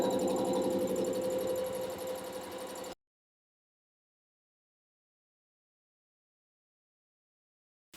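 A Janome Memorycraft CNC sewing machine embroiders stitches with a steady, rapid mechanical whirring hum for about three seconds, then stops abruptly into silence.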